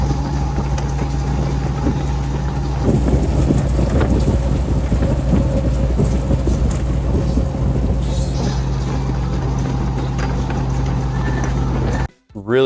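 A classic 4x4 with a 4-link suspension cruises down the interstate at about 80, steady loud road and wind roar throughout, cutting out abruptly near the end.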